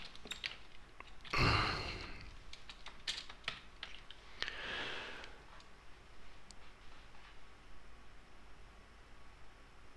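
Keystrokes tapped on a computer keyboard come in scattered, quiet bursts, close by, with a couple of louder rustling thumps among them and no talking.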